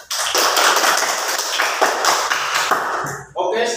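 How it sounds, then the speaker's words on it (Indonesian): A classroom of students bursts into loud, close applause, a dense wash of many hands clapping that holds steady and then cuts off abruptly near the end. "aplaus dulu tepuk tangan"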